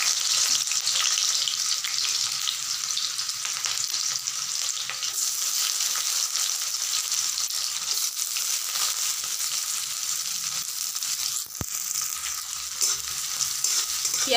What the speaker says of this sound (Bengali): প্রথমে আমি পেঁয়াজ কুচিগুলোকে দিয়ে দিচ্ছি।